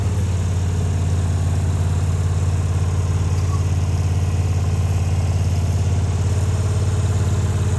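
An SD80MAC diesel locomotive runs close by, with a loud, steady low-pitched engine drone and rumble that holds constant throughout, with no voices.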